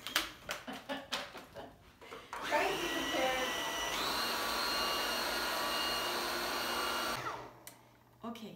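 Electric hand mixer beating cake torte ingredients, whirring loudly and steadily for about five seconds after some clattering handling, then stopping, with brief talk near the start and end.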